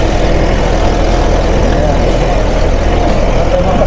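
A tractor engine drones loud and steady during a sugarcane harvest, a heavy, continuous rumble that stays constant throughout with no talk.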